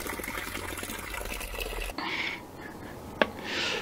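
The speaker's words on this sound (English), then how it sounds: "pour water in here" Water is poured into new guttering on a garden shed, a steady gushing trickle that cuts off partway through, followed by quieter dribbling and a sharp knock.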